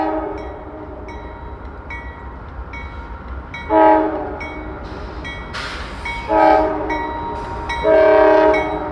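A CSX freight train with four locomotives up front rumbles steadily through southern Appalachia, its multi-tone horn sounding in short repeated blasts followed by three longer, louder ones.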